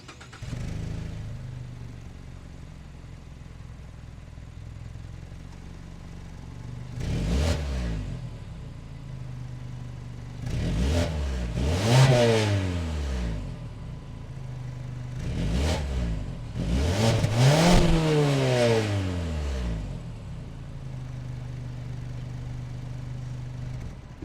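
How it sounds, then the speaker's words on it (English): A 2020 Mazda 3 Premium AWD sedan's four-cylinder engine idles steadily, then is revved in several sharp bursts that rise and fall, with paired blips toward the end before it settles back to idle; close and clear, no talking. "So let's go ahead and take a listen to that 4-cylinder."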